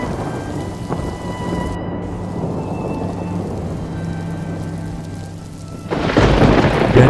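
Heavy rain pours steadily onto the ground during an outdoor Good Friday crucifixion procession at Natas Labar in Ruteng, with thunder rumbling through the downpour. The rain grows louder toward the end.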